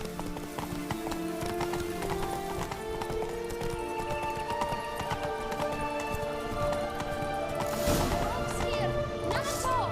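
Horse hooves clip-clop in a quick galloping rhythm in The Witcher 3, steady and close, with game music and occasional voices layered over them and a louder crashing burst near the end.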